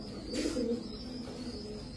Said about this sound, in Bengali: বড় ভাই মিলি রেসার মাদি কবুতর।